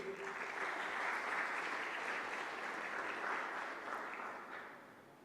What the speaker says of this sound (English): Can we have a round of applause for her, please?